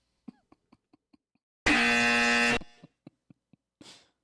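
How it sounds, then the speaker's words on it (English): A loud, harsh buzzing tone like a game-show wrong-answer buzzer blasts for about a second, sharp and close, framed by quiet scattered clicks before and after. "Press the extremely loud incorrect buzzer."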